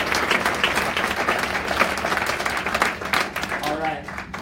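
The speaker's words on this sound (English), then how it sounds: "Let's give all these teams an awesome round of applause." Audience applause rings out for the startup pitch teams at a pitch night, a dense, steady wash of many hands clapping across the whole stretch, with voices and cheers mixed in.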